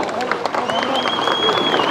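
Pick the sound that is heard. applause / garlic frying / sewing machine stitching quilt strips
applause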